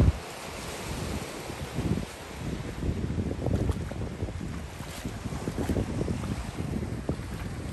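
Sea waves wash onto Tijucupava beach in Guarujá under gusty wind buffeting the microphone, a steady rushing surf with irregular louder surges.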